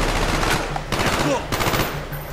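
Machine gun fire in the video game Call of Duty Black Ops rattles in fast continuous bursts, loud and close, with brief breaks between volleys.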